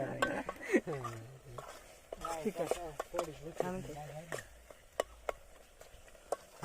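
Whole spices being stirred in hot oil in a pan for a riverside village chicken cook-up, with soft scraping and sizzling beneath someone talking almost continuously.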